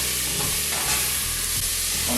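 Onions sizzle in a hot pan while a wooden spoon stirs and scrapes through them, a steady close frying hiss with soft knocks and no talk.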